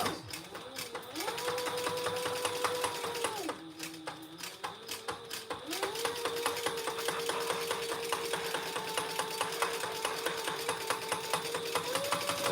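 A sewing machine bastes around a layered front pocket in a steady, fast mechanical hum with rapid needle ticking, slowing briefly partway through before speeding up again, fairly quiet and close.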